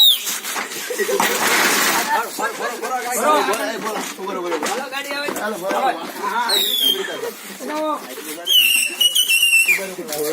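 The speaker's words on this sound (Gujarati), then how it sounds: "સિસોટી વગાડે આ ડ્રાઈવર" A bus driver in a comedy skit blows a whistle in short, shrill blasts, one brief chirp midway and a longer wavering toot near the end, heard under lively overlapping voices and laughter.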